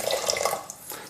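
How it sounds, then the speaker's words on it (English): Hot, recently boiled water from a kettle is poured into a pan, a short close trickling splash that fades out. "So I'm just going to add some water. This is from a kettle that was boiled not long ago."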